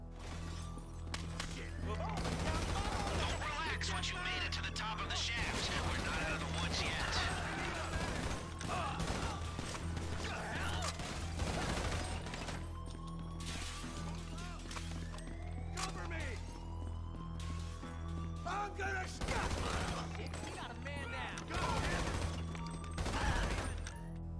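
Gunfire erupts while shooting out of the vault in the GTA Online Diamond Casino Heist, with repeated bursts and sharp shots over a steady low hum, lasting throughout, under ongoing game sounds.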